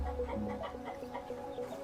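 Chickens clucking on a farm that also keeps bees, a steady run of soft, close clucks with no one talking.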